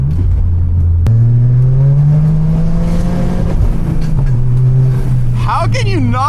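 A Toyota GR Corolla is driven hard on back roads, its engine droning loudly and rising in pitch as it accelerates through the gears, with a voice speaking over it near the end.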